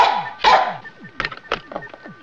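Barks from a robotic security dog in the 1979 sci-fi comedy film C.H.O.M.P.S.: one loud bark, then a quick run of sharper, shorter barks, with voices mixed in around them.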